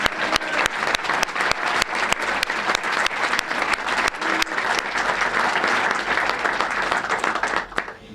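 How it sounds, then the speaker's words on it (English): A crowd at a park service centennial celebration applauds a woman turning 100, steady dense clapping with a few sharper claps standing out, lasting throughout before tapering off at the end. "Let's give her a round of applause"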